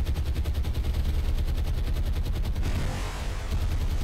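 Anti-aircraft guns in the naval game War on the Sea pound steadily at attacking Hurricanes, a loud, continuous rhythmic barrage of rapid repeated shots that blurs into a rougher roar toward the end.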